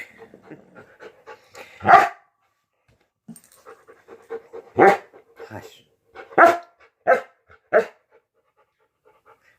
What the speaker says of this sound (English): I'm just going to talk over his barking.